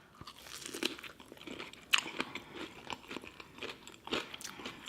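Close, crisp crunching bites into hot Cheeto fried giant prawns dipped in cheese sauce, a few sharp crunches spaced across the moment with softer chewing between, no talking.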